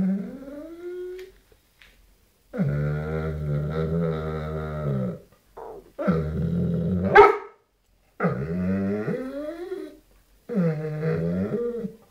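An angry Doberman growls in long, rumbling bouts broken by sharp barks, close and loud, with short pauses between outbursts.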